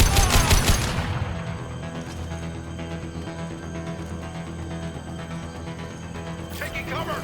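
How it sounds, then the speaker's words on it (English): Sustained gunfire from a firefight in Mass Effect 2 at the Zorya checkpoint, a dense, steady clatter of weapons fire that opens with loud bursts and rumbles on continuously beneath game voices. "Taking heavy fire!"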